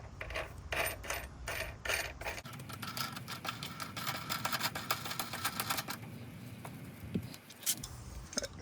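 A nut is fitted and tightened on the front suspension fork of a Razor E300 electric scooter. Quick metallic clicks and ratcheting taps start the clip, followed by a continuous rattling, scraping run of close mechanical noise.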